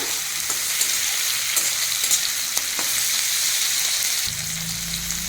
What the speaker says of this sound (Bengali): এখন আমি এর মধ্যে দিয়ে দেবো এই যে ভেজে রাখা চিকেন। এটাকেও দিয়েও 2-3 মিনিট মতো একটু নাড়িয়ে ভেজে নেব